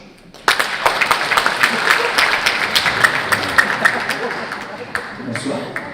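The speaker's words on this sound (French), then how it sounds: "Clap your hands if you speak English but no French." An audience at a stand-up comedy show in Geneva breaks into clapping, a dense burst of many hands starting sharply and continuing with rhythmic peaks for several seconds before tapering, loud and close.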